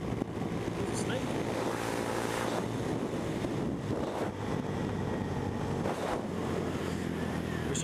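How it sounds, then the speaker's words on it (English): Steady, loud wind roar buffets the microphone while riding a scooter on a very windy day, a continuous broadband rush with gusty swells throughout. "it's just so windy today. That wind kills my speed."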